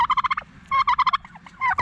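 Turkeys gobble outdoors in rapid rattling bursts, several loud trilled calls in quick succession close by, with no talk over them.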